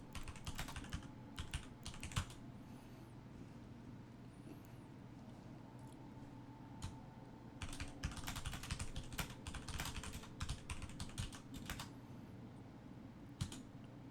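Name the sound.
typing on a computer keyboard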